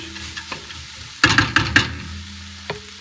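Celery, onions and cabbage sizzle as they are sautéed for pork pozole, with a low frying hiss broken by a burst of loud spoon scrapes and knocks against the pot near the middle and a few sharp taps toward the end.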